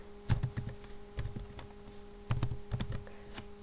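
Keys clatter on a computer keyboard in short bursts of quick taps separated by pauses, close and fairly quiet over a steady low electrical hum.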